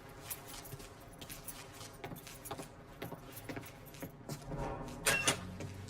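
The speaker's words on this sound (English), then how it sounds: "Keys in the other room. Grab them so we can get the hell out of here." Keys jangling in the video game Mafia 3, a scattered metallic clinking that runs through the whole stretch with busier rattles near the end, set against a low game background rumble.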